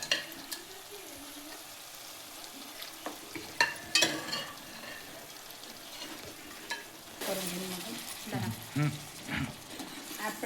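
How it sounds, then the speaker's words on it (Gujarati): Boiled goat mutton pieces are stirred into sizzling masala in a pan, with scraping spoon strokes and a steady frying hiss that grows louder and busier toward the end, heard close up. "આપણે આ મટન જે આમાં નાખી આપ્યું એને બરાબર મિક્સ કરી દઈએ."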